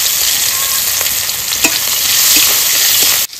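Chopped onion is tossed into hot oil with whole cumin, cinnamon, cardamom and cloves, producing a loud, dense, continuous sizzle with a few stirring scrapes before it cuts off abruptly.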